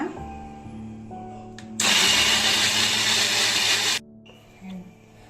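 A kitchen mixer grinds cooked tomatoes for sambar in one loud, steady whir lasting about two seconds, then stops abruptly, with quieter kitchen sounds before and after.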